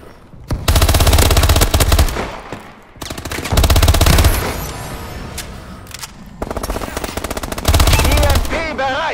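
Bursts of rapid automatic gunfire in Call of Duty: Advanced Warfare, loud and close, in three long volleys separated by brief pauses, with a digital game-like sheen to the shots.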